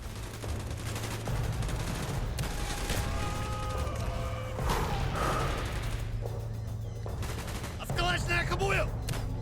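Grenade launcher fire and a dense battlefield firefight from Call of Duty Black Ops, with repeated gunshots and explosions over a constant roar, a shouting voice breaking in.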